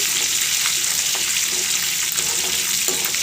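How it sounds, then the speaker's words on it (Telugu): Steady, dense sizzling of chana dal and urad dal frying in hot oil until golden, with occasional soft scrapes and pops, continuous throughout and no talking. "పచ్చిశనగపప్పు మినప్పప్పు మంచి గోల్డెన్ కలరు వచ్చే వరకు బాగా వేగనివ్వండి"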